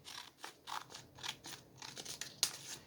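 Scissors cutting a sheet of paper, heard as a close series of short, crisp snips and crunches in an uneven rhythm, fairly quiet, with no talking.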